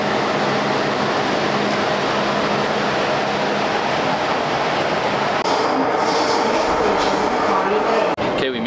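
A crowded Hong Kong metro train rumbles along with a steady roar and hum, heard from inside a carriage, with a faint click near the end.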